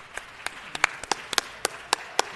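At a city council meeting, a few people in the room clap sparsely for a jazz group, about a dozen separate, sharp claps in a loose rhythm over a quiet background.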